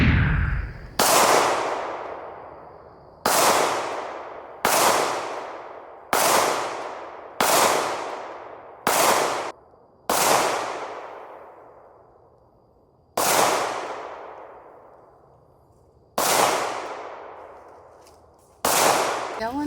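New shooters fire a Staccato 2011 and Chambers custom pistols, about ten loud, sharp reports spaced irregularly a second or more apart, each ringing out with a long decaying echo.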